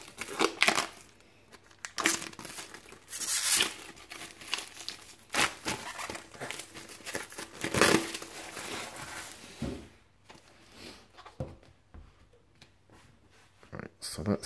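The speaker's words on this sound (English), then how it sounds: "So let's get it unwrapped and have a look inside." A Deadpool Minibus Vol. 1 book has its plastic shrink wrap pulled off, giving bursts of sharp crinkling and tearing that come and go, with a quieter stretch near the end.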